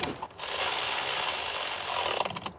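A power tool runs in one steady, loud whirring burst for about two seconds while snugging down ignition coil bolts on a 2017-2023 Nissan Titan engine, with short rattles before and after, close up and without voices.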